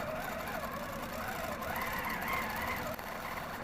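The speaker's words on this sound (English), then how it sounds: "In order to quilt, I need to release my sewing machine." A sewing machine hums quietly with a fast, steady needle patter, free-motion stippling a quilt, running continuously for a few seconds.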